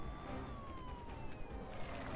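An ambulance siren wails in a Spider-Man video game, a steady falling tone that sounds fairly faint under a wash of city traffic noise.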